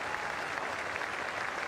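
Cricket crowd at the Basin Reserve in Wellington applauds a Test century in New Zealand v England, a steady, dense wash of clapping from many spectators throughout.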